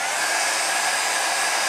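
A heat tool blows steadily at close range to dry acrylic paint, producing a loud, even, whooshing hiss like a hair dryer, with no other sounds.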